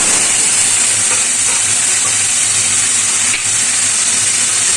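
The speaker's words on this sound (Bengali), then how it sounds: "পেঁয়াজটাকে একটু বাদামি করে ভেজে নেবো, পেঁয়াজ বাটাটাকে" Onion paste frying in a pan with whole garam masala for a Bengali doi katla fish curry, giving a steady, close, continuous sizzle and hiss throughout, with no talking.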